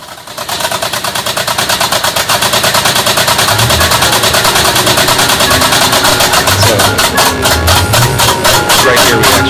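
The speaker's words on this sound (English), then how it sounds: "Right here we actually have the car running just off gasoline fumes." A V8 car engine with only one of its eight injectors fitted runs on gasoline fumes, a loud, close, rapid and steady mechanical ticking pulse over a rough idle that holds for the whole stretch.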